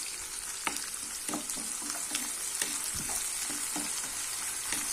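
Onions, green chillies and curry leaves sautéing in hot oil for a cauliflower rice, a steady close sizzle with soft scraping stirs at a regular pace and no talking.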